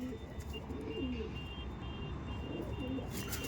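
Andhra Madrasi pigeons in a loft coo faintly and repeatedly in low rolling phrases, with occasional chirps over a quiet, steady background rumble.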